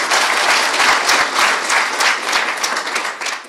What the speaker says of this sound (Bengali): আপনাদেরকে অসংখ্য ধন্যবাদ। জোরে হাততালি।